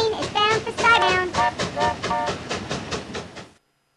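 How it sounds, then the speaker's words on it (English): Cartoon steam train in the game Gus Goes to the Kooky Carnival, a rapid rhythmic chuffing with tonal whistle-like accents, close and bright, cutting off abruptly near the end. "This train is bound for Skybound."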